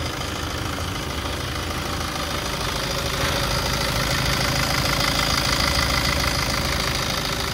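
A Yodha 1700 pickup truck engine idles steadily, a loud, close, even diesel-like rumble with a slight knocking texture and no speech over it.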